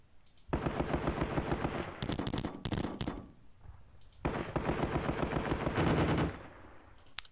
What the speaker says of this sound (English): Some machine gun support here.